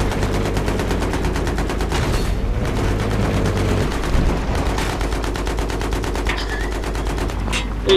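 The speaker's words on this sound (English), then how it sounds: "he must be working because he's still shooting" Rapid bursts of video game gunfire, automatic weapons crackling in dense, continuous volleys under background chatter, with a few heavier booms mixed in through a laggy online match.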